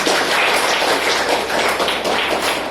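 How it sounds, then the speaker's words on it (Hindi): Audience clapping at a Mahashivratri and Women's Day celebration at a hospital: dense, loud applause from a crowd, steady and continuous throughout with no voices over it. "जोरदार तालियां बजाइए एक बार"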